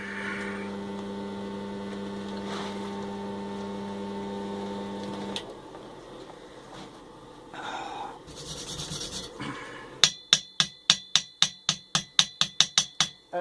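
Hum and machine noise at first, then a quick run of sharp metallic taps as a hammer chips slag off a weld, about a dozen evenly spaced strikes close by near the end.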